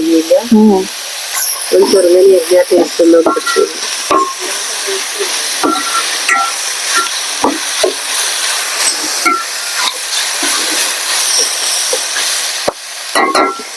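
Ginger and garlic sizzling in a hot pan, a hissing fry with scattered clinks and stirring scrapes, while a voice talks over the first few seconds.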